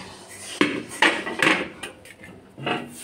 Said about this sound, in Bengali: খুন্তি দেখো কত বড়